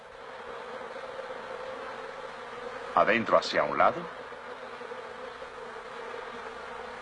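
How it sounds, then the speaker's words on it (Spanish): Honeybees fan their wings to cool the hive, making a brief buzzing swell of about a second under a narrating voice, against a faint steady hum. "El vigoroso movimiento de sus alas produce corrientes de aire que evaporan el agua."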